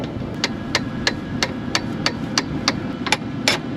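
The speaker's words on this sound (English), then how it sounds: "Now it's stuck in there, so now we need a hammer." A hammer beats on a stuck part of a grain pump at harvest time: about ten sharp metallic blows at a steady, even pace over a constant rumble of machinery.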